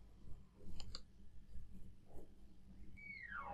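A computer mouse clicks a couple of times in quick succession, light and close, over a quiet room background, followed by a faint rising electronic tone.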